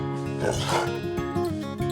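A female dog gives short yips and barks at close range during a sign-off at an off-grid home, with someone speaking to her between the sounds.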